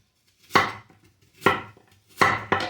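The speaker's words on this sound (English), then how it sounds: "when I get the other apple cut up, I'll get back to you." Kitchen knife chopping apples for a Waldorf salad: four crisp, close thunks on a cutting board in an uneven rhythm, the last two quick together, in a quiet room with no voices.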